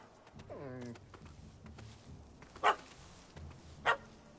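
A puppy gives two short, sharp barks, well spaced and moderately near. Faint talk and background noise run between them, with a whining vocal sound early on.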